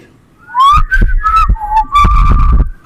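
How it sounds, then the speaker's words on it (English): Several people whistle a short melodic tune together, bright and loud, with a few low thumps beneath the notes. "If anyone knows the family whistle, let's all do it now together."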